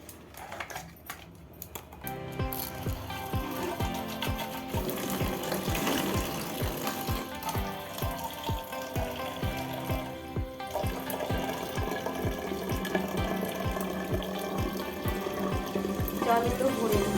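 Water runs into containers at home amid steady rhythmic mechanical clicking and clinking, moderately loud and continuous after a quieter start, with no talk.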